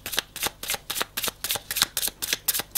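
Oracle cards are shuffled by hand for a reading, producing repeated crisp riffling bursts in a steady rhythm about five times a second. The sound is close, with no talking.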